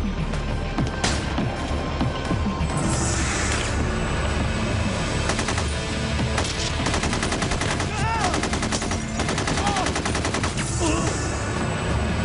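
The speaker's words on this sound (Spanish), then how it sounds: "Siguen disparando y parece no tener efecto el fuego" Sustained automatic gunfire in a 2003 action movie shootout, rapid bursts of machine-gun fire and dense volleys running continuously at high loudness over a heavy low rumble.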